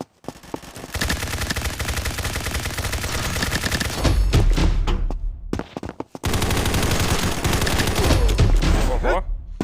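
Gunfire in the mobile shooter game Combat Master Mobile, with dense rapid bursts and loud shotgun blasts in quick succession and a brief pause, while someone talks in between.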